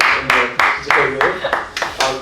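A small group clapping in a quick, loud, evenly spaced rhythm close by, about eight claps, in a game of guessing foods from emojis.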